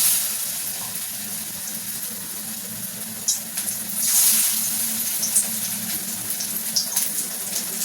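Drumstick flower fritters dropped into hot oil, a steady bubbling sizzle of frying with occasional crackles and spits, close up and alone.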